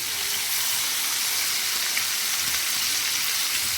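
Kadhi pakora simmering in a pan, heard as a steady, close, dense sizzling and bubbling hiss that continues evenly without talk.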